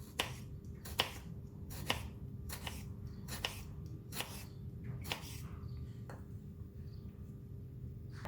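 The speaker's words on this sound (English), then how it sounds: "Cutting tomato, we need a very sharp knife." A very sharp knife slices through a tomato on a board, a regular series of crisp cutting taps, about one per second, close and fairly quiet over a low background hum.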